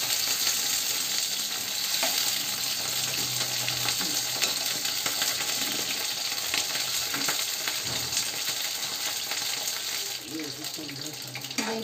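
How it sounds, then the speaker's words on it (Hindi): Cauliflower florets frying in hot oil for aloo gobi matar, a loud, continuous close sizzle with bubbling hiss and occasional stirring scrapes, steady for the whole stretch. "गोभी को थोड़ा सा फ्राई करेंगे"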